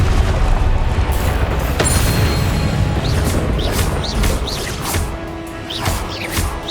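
Confringo spell explosions go off during a Hogwarts Legacy duel, a series of heavy booms and crashing impacts, loud and close, mixed with bright whooshing spell bursts over a continuous rumble.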